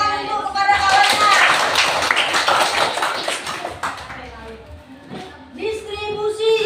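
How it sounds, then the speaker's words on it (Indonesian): Schoolchildren in a classroom clap together for a classmate, a loud, busy patter that fades after a few seconds as young voices and chatter take over. "Ya, tepuk tangan untuk kepada kawannya"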